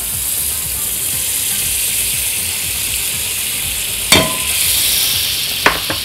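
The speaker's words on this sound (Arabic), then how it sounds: "اول حاجة احط الزبدة بتاعتي" Butter melting in a hot pan, a continuous bright hiss of sizzling with two sharp clanks of a utensil near the end, no talk.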